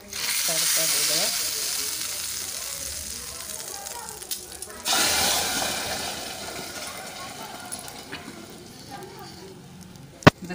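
Hot oil sizzles and crackles steadily as spices and chili powder are tempered for dal fry, with a brief louder burst midway and a sharp clink near the end; no one talks.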